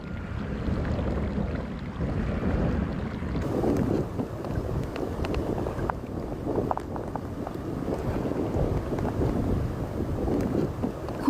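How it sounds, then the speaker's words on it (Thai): A deep, continuous volcanic rumbling roar from underground at Indonesia's Ijen volcano, steady and heavy, with low turbulent churning and occasional faint crackles over a windy background. "จะได้ยินเสียงแผ่นดินที่ปั่นป่วนและเดือดดาลลึกลงไปใต้ดิน"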